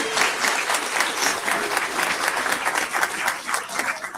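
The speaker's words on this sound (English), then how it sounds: "Let's give them a round of applause just for that." A school board meeting audience bursts into dense, sustained applause for a colleague's new baby, loud and even from start to finish with only faint voices mixed in.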